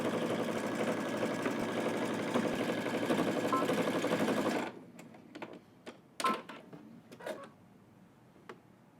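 Sewing machine stitching a 5/8-inch seam across a garment in a single continuous run, a steady near whir lasting about four and a half seconds, then stopping and giving way to fabric handling clicks.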